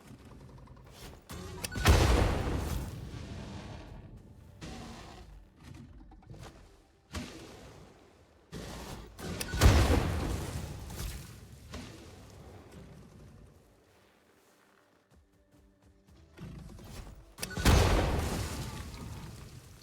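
Gunfire in Satisfactory comes as three separate bursts of loud, booming shots spaced several seconds apart, each followed by rumbling decay, with quieter game ambience in between and no talk.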